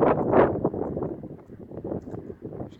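A newly set-up wind turbine turns in mixed, gusty wind, its spinning lost in a steady rush of wind buffeting the microphone that swells and eases in uneven surges.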